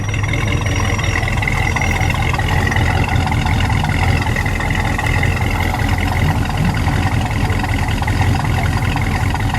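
A 1967 Dodge Dart with a 273 V8 idles close by, a loud, steady low rumble with an even pulsing beat that holds unchanged throughout, with no talking.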